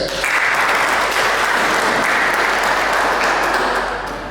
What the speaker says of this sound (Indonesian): Tepuk tangan untuk Pers.